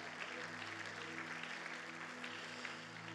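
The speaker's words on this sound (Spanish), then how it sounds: "Y dan un fuerte aplauso al Señor." Church congregation applauding during a Spanish-language sermon, a continuous wash of clapping heard fairly faint and distant, with a low steady hum underneath.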